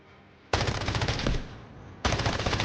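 Automatic gunfire in the video game Delta Force, two dense bursts of rapid shots, the first longer and tapering off before a second burst starts abruptly, with no voices.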